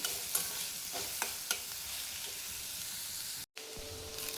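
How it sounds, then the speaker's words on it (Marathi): Onions frying in hot oil in a pan for a spicy tomato, onion and green chilli thecha, a steady close sizzle broken by a few sharp stirring scrapes and one brief dropout. "तेलामध्येच कांदे पण भाजून घ्यायचे।"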